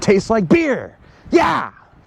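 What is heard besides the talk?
No everyday noises stand out.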